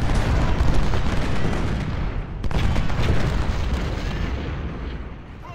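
Dense, continuous rumble of heavy cannon fire in the video game Ultimate General: Civil War, Brandy Station battle, with repeated booms blending into a loud barrage, one sharper blast standing out midway.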